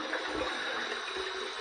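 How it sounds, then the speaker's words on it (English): Hot water running steadily from a tap into a basin, a constant hissing pour with no talk over it. "Okay, there's the hot water right there."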